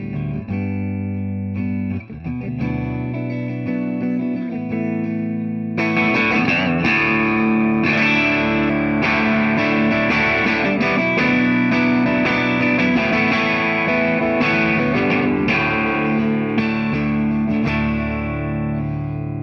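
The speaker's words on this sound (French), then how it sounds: "Là-dessus, il y a une belle réverb un peu trémolo et tout." Electric guitar played through an overdrive pedal with reverb and tremolo, a quieter, sparser opening giving way to a louder, denser stretch of sustained distorted chords and notes, playing alone.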